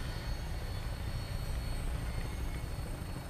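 Vertibird aircraft in Fallout 4 lifting off, a steady, loud broadband rotor and engine roar holding constant throughout with no voices.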